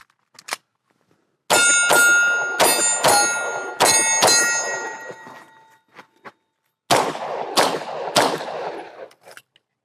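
Pistol shots ring out at an outdoor shooting range, with sharp, loud reports fired in a quick string, then a pause and a few more shots, each with a metallic ringing tail and no talking.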